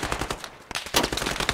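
Rapid automatic gunfire in the Squad military shooter game, a string of sharp close bursts with a short lull midway before the shots resume more loudly and densely.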